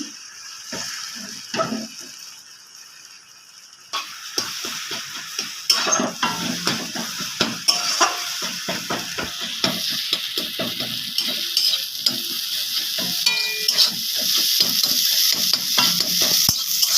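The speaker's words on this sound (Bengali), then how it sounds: "তেল গরম হয়ে গেছে, ডিমটা দিয়ে দেবো।" Beaten egg with salt sizzles and crackles in hot oil in a pan, a steady loud frying hiss with frequent scraping stirs and utensil clatter throughout.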